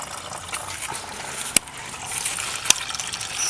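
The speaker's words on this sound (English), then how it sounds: "So we're now draining all the water out of this turd." Water drains out of a car radiator during a BMW 320i engine swap, a steady splashing gush with a couple of sharp metallic knocks, close and moderately loud with no speech.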